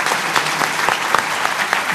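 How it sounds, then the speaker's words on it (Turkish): An audience at a Turkish televised talk show breaks into steady applause, a dense patter of many hands clapping throughout at moderate loudness, with no speech over it. "Alkışlıyoruz."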